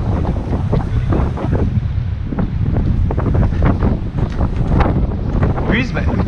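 Strong wind buffets the microphone on a bridge during inshore snook fishing in Trinidad, a constant loud rumbling roar with gusty flutter and faint water noise beneath.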